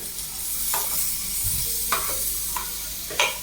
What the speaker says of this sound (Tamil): ஒரு பொரியல் மாதிரி ஒரு கிண்டு கிண்டி சாப்பிட்டு பார்ப்போம் எப்படி இருக்குண்டு